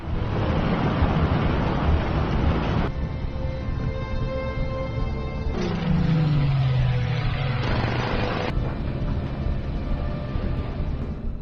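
Sea waves washing steadily around a ship at sea, a continuous broad rushing swell with a few shifts in texture and a low tonal sweep midway, no voices.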